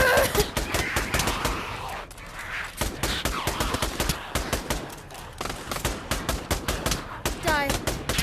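Minigun fire in the VR shooter Pavlov: long, dense bursts of rapid automatic shots, loud and close, with brief pauses between volleys and a short stretch of quieter game noise midway.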